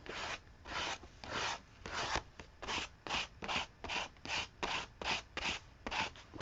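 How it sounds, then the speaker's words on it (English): Gesso is scraped across an art journal page in a steady rhythm of short rasping strokes, about a dozen in a row, each one close and fairly quiet, with no talking. "So I'm just scraping on the gesso."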